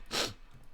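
A single close, sharp sneeze bursts out and quickly fades into quiet room noise, with no talking around it.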